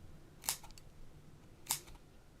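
Two crisp, sharp snips from Crafter's Companion scissors cutting fabric held right up to the microphone, spaced about a second apart in an otherwise quiet room.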